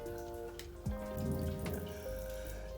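Water runs steadily from a tap into a basin, a close splashing stream with a brief gurgle and a tonal shift partway through.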